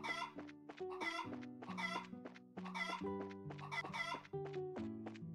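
Repeated rhythmic chicken clucks from the video game Legend of Heroes: Trails in the Sky, about a dozen quiet evenly spaced clucks over a sustained low musical drone.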